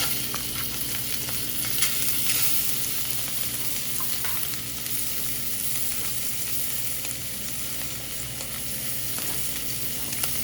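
Shrimp sizzle in hot oil in a frying pan, a steady, dense hiss of frying with faint crackles, continuous and close throughout.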